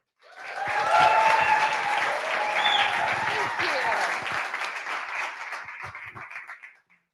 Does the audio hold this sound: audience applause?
yes